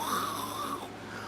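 A voice imitates a man snoring in his sleep, giving one drawn-out, rasping snore that fades off, heard alone and close.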